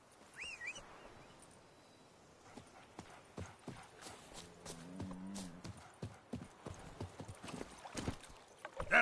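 Roach the horse trots along in The Witcher 3, with rhythmic hoof clip-clops close by, a brief neigh-like tone and faint birdsong in the background.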